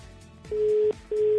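A phone call rings on the line: a steady electronic ringback tone sounds in two long pulses separated by a short gap, clear and close against faint hiss.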